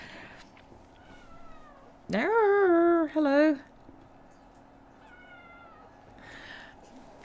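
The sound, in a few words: cat meowing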